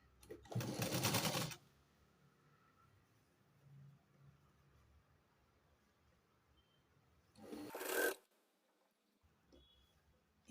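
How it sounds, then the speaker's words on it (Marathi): An overlock sewing machine stitches a fabric strip onto a garment, two loud bursts of whirring running about a second each with a quiet pause between them. "इथे मी ओव्हरलॉक करणार आहे"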